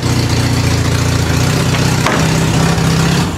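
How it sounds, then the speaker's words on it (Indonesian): Toyota AE86 engine running with no exhaust muffler fitted, a loud, rough, close idle with a throbbing low pulse and a brief blip of revs midway, no talking over it. "Tapi knalpotnya belum ada nih. Jadi racing look dulu nih suaranya."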